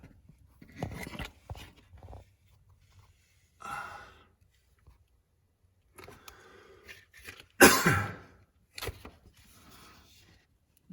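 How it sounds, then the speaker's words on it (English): Several coughs come in separate bursts, one sharp and loud near the middle, with quiet breathing and silence between them. "got a cough all of a sudden"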